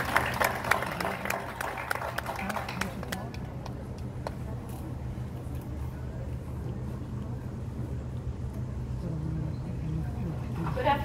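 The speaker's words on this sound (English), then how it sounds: "You got to clap for this one" Audience clapping at the opening of a Ukrainian Days festival, with scattered claps for the first few seconds that fade out, followed by low rumbling background noise and some talk.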